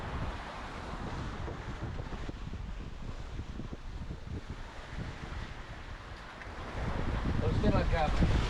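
Broadband wind and ocean wave noise aboard the sailboat s/y Panacea crossing the Pacific, a steady rushing wash that swells louder near the end, with faint voices under it.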